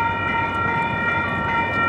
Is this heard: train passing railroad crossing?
yes